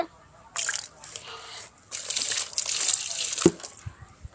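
Water splashes out onto plants in two bursts, a short pour then a longer one, close by, ending with a few soft thuds.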